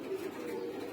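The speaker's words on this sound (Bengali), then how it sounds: "এই যে আমার প্রিয় 1 জোড়া কবুতর," Soft, low cooing from a pair of red checker pigeons, a male and a female, heard close by in a steady murmur lasting about a second.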